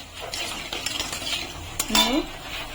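Whole spices (cardamom, cloves, cinnamon, bay leaf and cumin) stirred in hot oil for Kashmiri aloo dum, with repeated metal spoon clinks and scrapes against the pan over a light sizzle, close and alone.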